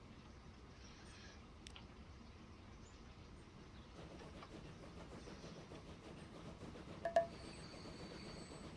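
A freight train with tank cars rolls in on a line in the game Transport Fever 2, a low continuous rumble with faint rail clatter, growing slightly louder midway and ending in a couple of brief clicks.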